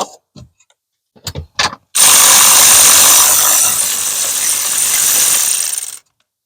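A power tool backs out the steering wheel nuts on a 2009-2015 Chevy Silverado with a few short ratcheting bursts followed by a loud, close continuous whir lasting about four seconds, then stopping abruptly.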